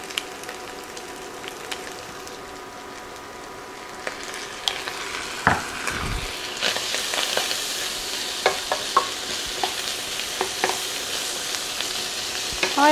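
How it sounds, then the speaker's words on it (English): Minced garlic, onions, peppers and meat sizzling in a skillet for a sloppy joe pasta dish, a steady close hiss broken by repeated scraping and clinking as a spoon stirs the pan, with no talking. "I'm going to stir this around for 30 seconds to release the flavors of the garlic all into the meat and the peppers and the onions"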